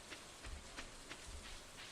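Steady rain falls in the farming video game Stardew Valley, a soft continuous hiss with faint rhythmic pattering, quiet and unbroken with no talk over it.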